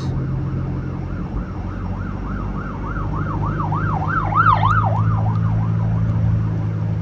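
An ambulance siren wails in a steady, repeating up-and-down pattern, loud and fairly close, over a constant hum of road traffic, with no one speaking.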